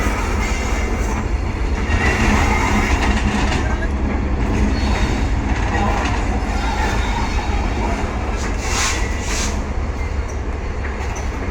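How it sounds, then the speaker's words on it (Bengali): A train bound for Dhaka rolls into a station with a loud, steady rumble of wheels and carriages, close by, with brief high wheel squeals near the end and faint crowd noise under it. "আরেকটি ট্রেন চলে আসলো ঢাকার উদ্দেশ্যে"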